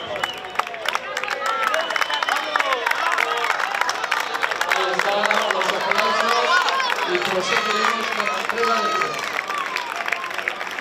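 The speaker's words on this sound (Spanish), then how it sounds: "Miguel Reus, fuertes aplausos para él." Spectators applaud and cheer for a runner finishing near the back of a popular road race on the Costa de Ajo, under-16 boys' category, a steady crowd roar mixed with scattered clapping and talk.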